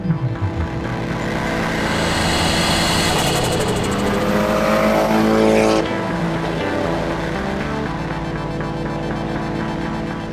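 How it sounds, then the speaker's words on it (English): A Nissan S14 Silvia's turbo engine revs hard and climbs in pitch, then a whooshing blow-off release cuts through before the motor settles back down, loud and close. "It just makes all the blow-off noises, the turbo sounds."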